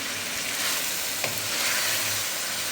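Chicken pieces fry over a high flame in a pan, giving a steady, dense sizzle that holds evenly throughout, with a faint scrape of a spoon being stirred through near the middle.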